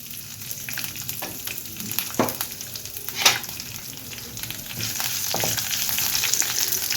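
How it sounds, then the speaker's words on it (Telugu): Onions, green chillies, ginger pieces and a dried red chilli frying in a pan for tomato curry, a steady close sizzle with a few sharp spoon clinks against the pan. "అలాగే ఉల్లిపాయ ముక్కలు కూడా వేసి వేయించుకుందాము."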